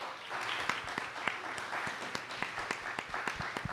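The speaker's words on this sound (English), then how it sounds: "Please give a round of applause." An audience applauds during a university campus gathering, a steady wash of clapping with sharp individual claps standing out and no talk over it.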